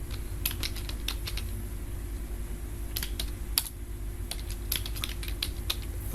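Fingers type a name on a computer keyboard, with bursts of quick, close key clicks separated by short pauses over a low steady hum, and no one speaking.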